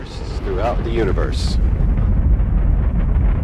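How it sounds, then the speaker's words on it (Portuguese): Launch of NASA's Swift spacecraft on its rocket, a loud, deep rumbling roar that swells and holds steady, with a voice speaking over the first part. "A nave espacial Swift da NASA foi lançada numa missão para estudar as explosões de raios gama no universo."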